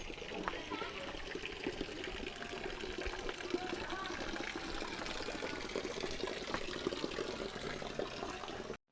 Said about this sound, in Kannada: ನೀವು ಅರ್ಧ ಸ್ವಲ್ಪ ಹತ್ರ ಬಂದಂಗೆ ನಿಮಗೆ ನೀರು ಹೋಗೋ ಫ್ಲೋ ಸೌಂಡ್ ಕೇಳಿಸುತ್ತೆ